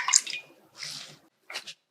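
Juice is poured into a mocktail in a few brief splashing trickles, close and clear, with short silent pauses between them.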